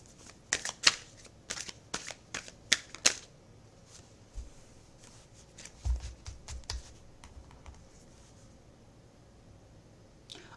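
A deck of cards being shuffled, with a run of sharp riffling snaps up close, followed by softer scattered flicks and a low thump as a single card is drawn.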